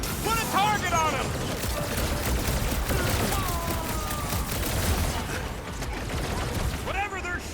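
Enemy gunfire and energy blasts in the Guardians of the Galaxy video game, heavy continuous combat noise with sharp bursts, under several excited voices talking.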